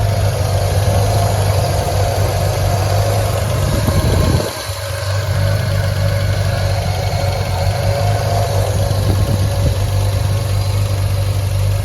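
A 52-year-old classic car's 2.5 liter inline six idles steadily up close in the engine bay, a loud even low rumble with a brief dip partway through.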